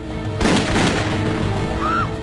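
A single loud, booming gunshot on an airplane, close and reverberant, its echo decaying over a low, steady cabin hum.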